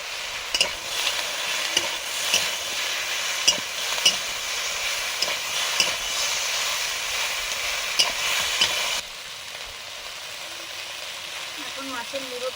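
Turmeric, chili powder and onion-ginger paste fry in hot oil for a Bengali rui fish curry, giving a steady close sizzle with stirring scrapes, then quieting to a softer hiss near the end.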